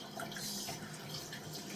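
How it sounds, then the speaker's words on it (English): Cold water runs steadily from a bathroom tap into a sink during a morning face wash, a close, even rushing flow with no voices. "So now I'm gonna wash my face."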